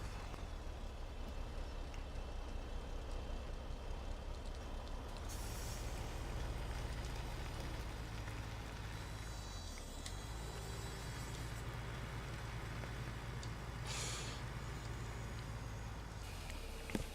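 A truck drives in the Farming Simulator 17 farming game, its steady low engine rumble loud and continuous, with brief hissing bursts like air brakes partway through.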